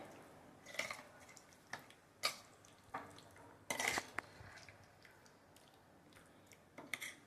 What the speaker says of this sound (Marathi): व्यवस्थित मिक्स करून घ्यायचंय.